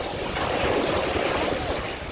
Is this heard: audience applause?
no